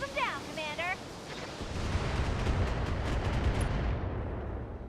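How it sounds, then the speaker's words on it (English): Weapon fire from mechs in the BattleTech video game, with medium lasers and LRM-20 missiles, a rumbling volley of launches and impacts that swells after a brief electronic chirp and continues steadily. "we're going to shoot our medium lasers at the Grasshopper, and then one of our LRM-20s, our better LRM-20, at the Stalker"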